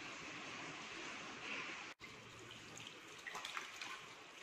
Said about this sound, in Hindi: मैंने अपने हाथों को साबुन से अच्छी तरह से धो लिया है।